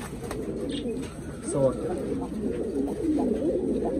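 Pigeons cooing softly among a breeding pair, with a person talking over the calls throughout.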